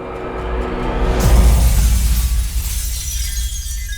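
A loud shattering impact, like glass breaking, bursts in after a second of droning music, followed by a scattering rumble and tinkling debris that fades over a few seconds.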